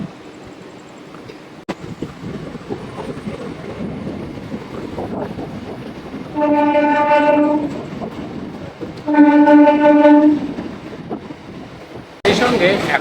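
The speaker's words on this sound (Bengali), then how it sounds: "দেখো হর্ন কিন্তু দিয়ে দিয়েছে, চলো ট্রেন কিন্তু ছেড়ে দিল" A train horn sounds in two sustained blasts while a train pulls out of Galsi railway station at night, over steady rumbling carriage noise and wind, with a burst of louder noise at the end.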